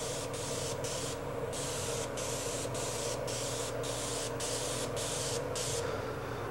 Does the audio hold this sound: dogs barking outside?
no